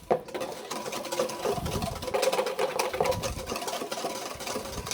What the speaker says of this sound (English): I'm going to whisk this in.